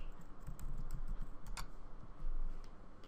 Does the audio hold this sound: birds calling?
no